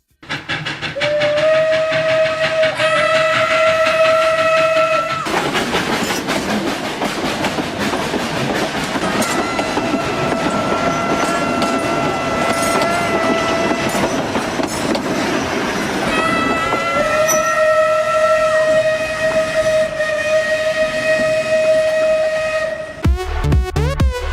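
A train rolls past at close range with loud, steady rumble and clatter of cars, while its horn blares in several long harmonic blasts near the start, middle and end.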